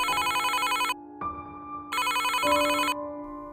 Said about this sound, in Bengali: পিৎজা দোকানের ফোন বেজে ওঠে